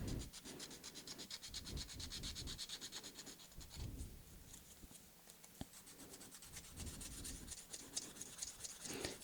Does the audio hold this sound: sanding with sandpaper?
yes